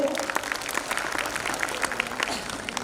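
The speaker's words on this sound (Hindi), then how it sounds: "एक बार जोरदार तालियां हो जाए ये छोटी परिया के लिए" Brief burst of audience clapping for young performers at a school annual function, dense and bright with individual claps standing out.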